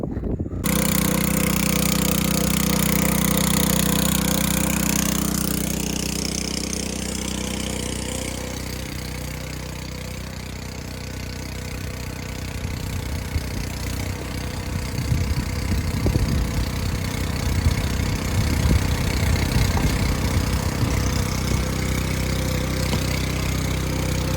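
A homemade ski and snowboard tow rope engine runs steadily nearby, a continuous mid-pitched idling drone that roughens and grows slightly louder toward the end, with no talking.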